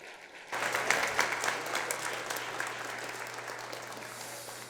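A church congregation bursts into loud, sustained applause that fills the room, steady dense clapping continuing throughout after a brief quiet start.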